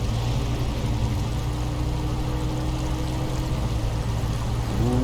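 A heavy truck in SnowRunner ploughs through flowing water in low gear, a loud steady rush of water over a deep engine drone that holds constant throughout, with no talking.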